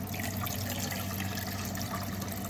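Filtered water pours steadily into a cooking pot for chili, a soft continuous splashing trickle heard close and fairly quiet, with no voices.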